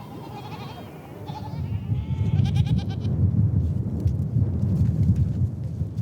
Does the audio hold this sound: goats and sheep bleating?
yes